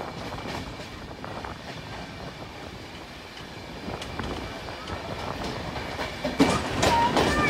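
The Black Diamond Express passenger train, running from Howrah to Dhanbad, rumbles along the rails with a continuous low roar and faint rhythmic clatter, heard from on board and growing louder with a few sharper knocks toward the end.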